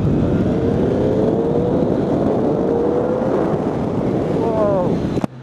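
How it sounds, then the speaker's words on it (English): A Triumph Daytona 675R motorcycle engine with stock exhaust drones steadily under heavy wind rush while riding, rising slightly in pitch, then cuts off abruptly with a sharp click at the end. "That sounds damn good! With stock exhaust"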